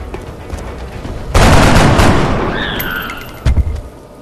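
A gunshot fires in XCOM: Enemy Unknown. A sudden loud blast rolls into a long decaying boom with a rising electronic whine, then a sharper second crack follows near the end.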